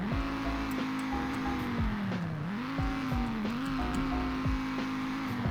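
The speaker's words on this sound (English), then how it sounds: "And hear the revs." A sedan's 2.5-liter five-cylinder engine revs hard and continuously, its tone climbing and dipping through several rises while staying loud and close with no talking over it.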